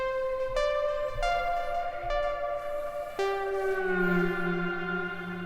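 A Falcon software synthesizer played from a MIDI controller in Pro Tools, a series of sustained, bright, reedy notes stepping to new pitches about every second before settling into a longer, lower, fuller tone.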